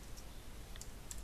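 Soft typing on a computer keyboard while entering a sudo command in Ubuntu on Parallels Desktop 8 on an Apple computer, a few light key clicks over a low steady hum.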